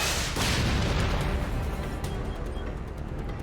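An RPG fired in the superhero TV series Titans: a heavy, booming roar that hits suddenly and stays loud and rumbling, with noisy blast texture that slowly thins out and no voices.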